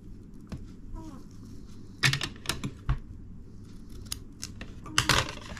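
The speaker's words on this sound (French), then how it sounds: "j'ai plus qu'à couper le bout de mon ruban" Scissors snip the end of a ribbon up close, giving a few crisp cutting clicks over quiet room tone, with the sharpest cuts coming near the middle and the end.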